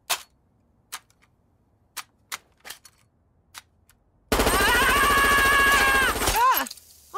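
A cartoon gun fires a series of sharp, isolated shots with pauses between them, followed by a sustained loud buzzing, whirring burst that ends abruptly.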